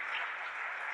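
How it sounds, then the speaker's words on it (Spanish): A church congregation claps for the Lord in a brief, steady wash of many hands applauding together, fairly distant and even in level. "Den un aplauso al Señor"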